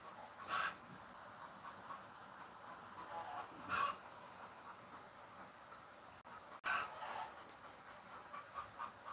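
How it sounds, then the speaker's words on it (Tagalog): Chickens clucking and crowing in short bursts near the start, middle and near the end, heard over a steady hum of background noise at a rural spot in Bicol. "Maingay yung manok."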